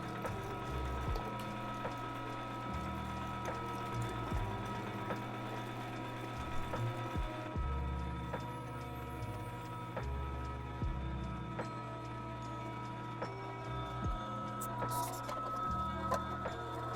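An LEM BigBite 12 electric meat grinder runs steadily inside an RV while grinding sausage meat. Its motor gives a continuous, even hum with faint irregular clunks as chunks of meat feed through, and no one talks.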